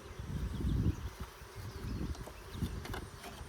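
Honeybees buzzing around a hive in mid-June clover, a low droning hum that swells and fades as bees pass close, faint outdoor background with occasional light rustles.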